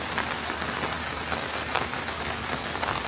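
Heavy rain pouring steadily on surfaces around a temple, a dense, continuous hiss with scattered drops, loud and unbroken throughout.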